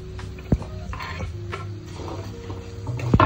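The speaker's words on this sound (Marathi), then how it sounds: "टोमॅटो चांगला स्मॅश होईपर्यंत तेलामध्ये भाजून घ्यायचा आहे" Onion and tomato sizzle steadily in oil in a pan while a utensil stirs and scrapes, with a couple of sharp clinks against the metal.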